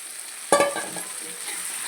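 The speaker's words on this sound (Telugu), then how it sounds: "ఇప్పుడైతే కొన్ని టమాటాలు వేసుకోవాలి రెండు టమాటా అయితే వేస్తున్నాను నేను" Tomatoes drop into a pan of frying onions for an egg tomato curry, giving one sudden close sizzling burst that settles into a steady, softer frying hiss with no voices.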